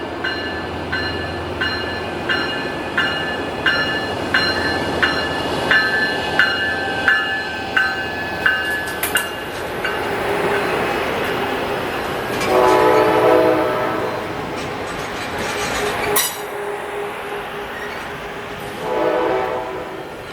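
An Amtrak train passes with rhythmic clickety-clack from the wheels, then loud horn blasts sound twice amid the rumble of the passing cars.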